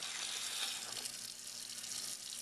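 Cold tap water runs steadily for a pet's shower, a soft, even hiss of flowing water with no voices over it.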